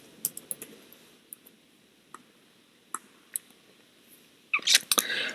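Sparse, quiet computer keyboard taps spaced irregularly across a hushed room, ending in a louder, busier flurry of keystrokes and clicks; no one speaks.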